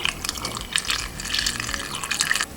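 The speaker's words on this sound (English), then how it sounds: "Put a funnel in the container you're going to use and pour it in your container." Homemade almond milk poured through a funnel into a container, a close continuous liquid trickle and splash lasting a couple of seconds.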